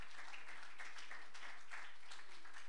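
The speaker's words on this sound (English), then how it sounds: "Would you clap your hands and make a joyful noise?" A church congregation claps in a fast, uneven rhythm, a faint and slightly distant patter of many hands.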